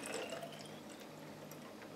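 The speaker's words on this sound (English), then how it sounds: "I'm going to take one of these bottles, and I'm going to put some distilled water in it" Distilled water is poured into a stainless steel bottle, giving a soft, steady trickle and fill sound at close range that stays fairly quiet and even for the full two seconds.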